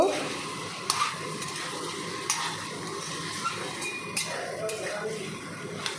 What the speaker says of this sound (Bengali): সব দেয়া হয়ে গেল এবার নাড়াচাড়া করব